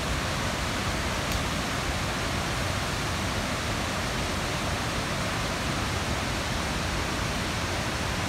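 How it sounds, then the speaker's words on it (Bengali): A large waterfall on the Annapurna Base Camp trek in the Himalayas roars as a steady, dense broadband rush of falling water, loud and unbroken throughout with no voices. "হিমালয়তে পৌঁছানোর শেষ ঢালে ওঠার আগেই পড়বে বিশাল আকৃতির এই ঝর্ণাটি।"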